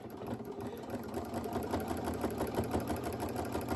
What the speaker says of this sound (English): We're just gonna start sewing.